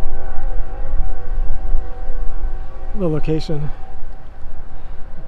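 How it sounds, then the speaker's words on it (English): A distant train whistle sounds from near Highway 65 at a Nashville cemetery, a brief wavering horn blast in the middle against steady background hum and faint outdoor noise, with a person talking. "You can hear the train whistle off in the background."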